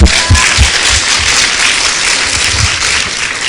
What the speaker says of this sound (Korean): 박수. 하나님.